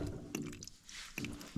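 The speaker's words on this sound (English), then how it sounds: "I can spin the valve to the front of me and direct the water in the bucket for releasing the pressure off." Pressurised water bursts from a turned plumbing valve into a bucket, splashing in short gushes that start and stop, with wet sputtering between the louder bursts, close by.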